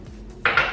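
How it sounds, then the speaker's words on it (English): Bowls and dishes clatter as they are dried and put away in a Victorian home kitchen, with two quick clinks of crockery after a quiet moment. "the reason I go ahead and dry the other dishes and put them away"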